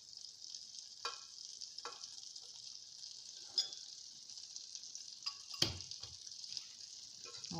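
Butter melting in a pan for minced-meat crêpes gives a steady, close hiss of sizzling, broken by a few soft clicks and scrapes of stirring.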